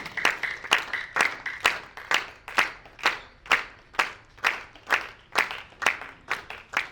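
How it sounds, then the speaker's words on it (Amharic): An audience at an arts event claps in slow, steady unison, about two claps per second, each beat crisp and reverberant, held evenly for several seconds with no voices over it. "አሁን እናንተ የስብሰባውን ጭብጨባ ነው እያጨበጨባችሁ ያላችሁ።"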